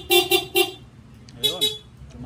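A newly installed car horn gives three short, loud toots in quick succession, followed by two more honks a moment later, with a brief voice between.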